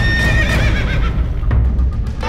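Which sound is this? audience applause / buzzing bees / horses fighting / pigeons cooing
horses fighting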